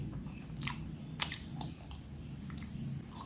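Close, crunchy biting and chewing on cimplung, a traditional fried cassava snack from Bumiayu, Brebes, with several crisp bites and soft squishy mastication, no talking.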